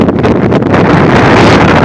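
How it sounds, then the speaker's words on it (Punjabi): Strong storm wind with rain buffets the microphone with loud, continuous roaring gusts and no voices. "ਹਵਾ ਬੜੀ ਤੇਜ਼ ਚੱਲ ਪਈ ਹੈ"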